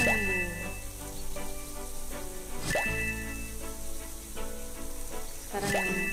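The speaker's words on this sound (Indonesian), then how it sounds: "Lalu kita siram guys biar dia cepat tumbuh." Watering plants in the My Talking Tom Friends video game: cartoonish splashing and trickling effects repeat several times in short bursts, with game music in the background.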